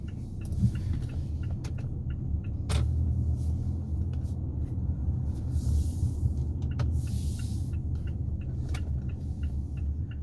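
2021 Mazda CX-5 driving on a road, heard from inside the cabin as a steady low rumble with faint ticking clicks over it and no talk.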